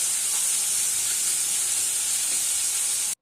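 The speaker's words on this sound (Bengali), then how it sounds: "এটাকে একটু ভালো করে ভেজে নেবো।" Green beans frying in a pan give off a steady, bright hiss and sizzle that holds constant for a few seconds and then cuts off abruptly.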